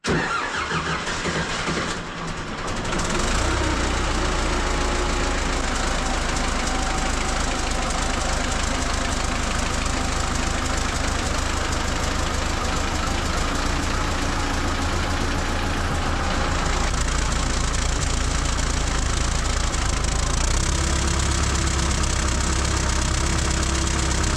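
Old T40 tractor engine, with a rough burst of starting noise at first, then a loud, steady knocking idle that runs on close to the microphone.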